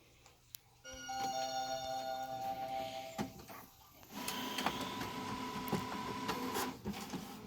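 A sublimation printer switches on and boots up, giving a sharp click, steady electronic beeps and tones, then a louder run of mechanical whirring and motor churning as the print head initializes, all close by with no talk.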